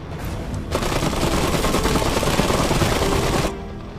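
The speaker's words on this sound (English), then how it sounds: "Heavy machine gun here to fight." Heavy machine gun in the Iron Harvest strategy game fires a sustained, dense burst of rapid rounds for about three seconds. The fire sits loud and close, rises abruptly and cuts off sharply, with no talk over it.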